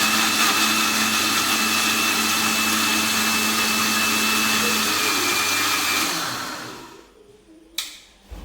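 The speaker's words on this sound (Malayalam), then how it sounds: "ഒന്ന് ജ്യൂസ് അടിച്ചെടുക്കണം." A kitchen mixer jar blends curd with green chillies, a loud continuous whirring grind that runs steadily for about six seconds, then winds down and stops, followed by a brief clatter.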